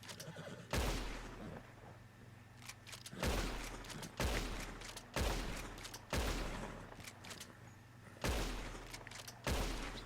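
Repeater rifle shots crack out near a horse in Red Dead Redemption 2, six loud, sharp reports spaced a second or two apart, each trailing off into a ringing decay.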